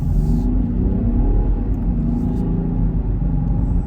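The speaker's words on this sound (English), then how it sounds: "I'm gonna put it in drive and get back on the road." A 2021 Land Rover Defender 110 pulls away and accelerates, its engine a steady loud low rumble with rising revs heard from inside the cabin, continuous with no speech.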